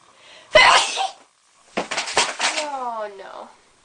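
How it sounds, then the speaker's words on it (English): A woman gives one loud, sharp sneeze close to the microphone, followed by a few seconds of breathy voice and talking. "I'm gonna sneeze."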